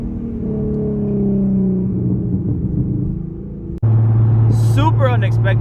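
An Infiniti Q50 with an ISR exhaust on a base-map tune rumbles steadily while moving, then after a brief cut a louder deep drone with a crackling, popping burst follows on downshift.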